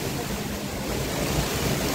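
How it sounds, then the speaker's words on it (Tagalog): Violent typhoon wind under a Signal No. 4 storm warning roars steadily and loud, buffeting the microphone with dense, unbroken rushing noise like surf. "Grabe ang hangin, sobrang lakas."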